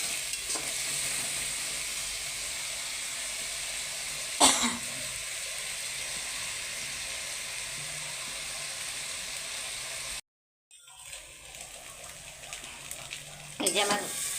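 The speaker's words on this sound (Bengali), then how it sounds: "একটু কষা হোক।" Spices and vegetables sauté in a pan for a Bengali vegetable dish, a soft steady sizzle with a cough or throat-clear, a brief dropout to silence, then the quiet frying hiss resumes.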